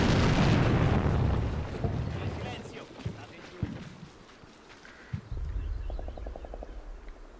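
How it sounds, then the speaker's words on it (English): Artillery fire in the WWII war game Combat Mission: Rome to Victory opens with a loud, heavy rumbling blast that fades, followed by a few sharp distant thuds and pops. Someone speaks over it. "I hope that artillery is a bit effective here"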